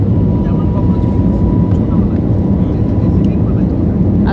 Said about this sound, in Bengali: আমাদের প্লেনটা এখন টেক অফ করছে।